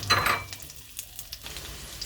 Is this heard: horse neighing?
no